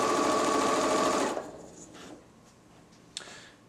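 A Janome XL601 sewing machine runs loud and steady at a fast clip for about 1.3 seconds, then winds down to a faint, slow chugging with a single soft knock near the end.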